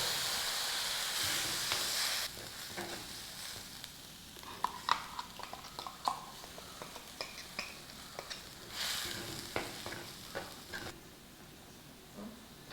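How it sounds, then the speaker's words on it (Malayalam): A ground coconut spice paste for Kerala Kaalan fries in a pan with a constant soft hiss and sizzle, broken by scattered light clicks and scrapes of a spoon against the pan, and no voices. "ഇനി നമുക്ക് അരപ്പ് ചേർത്ത് മൂപ്പിച്ചെടുക്കാം"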